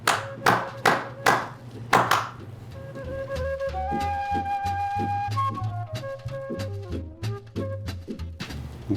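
Hands clap four times in quick, sharp, close bursts, then give way to a light musical backing.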